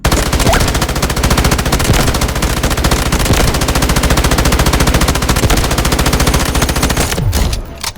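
M249 machine gun from the game Delta Force firing in one long, unbroken loud burst of rapid, evenly spaced shots that stops abruptly near the end.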